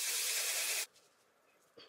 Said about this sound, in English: So I sprayed a generous amount of the melting spray, and we're gonna let that do its thing.